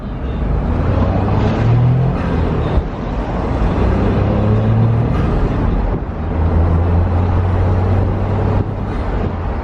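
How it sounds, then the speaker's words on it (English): A small three-cylinder turbocharged car engine runs with a loud, close, continuous low drone and mild shifts in pitch, heard from inside the vehicle. "Little 3-cylinder turbo."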